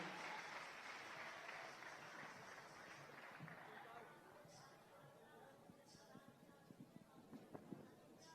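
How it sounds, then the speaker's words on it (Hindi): Audience applause at a Hindi poetry recital event, broad clapping that fades after a few seconds into crowd murmur and scattered sounds, fairly faint and distant. "तालियां एक बार होनी चाहिए परम पूज्य दीदी माँ के सम्मान में।"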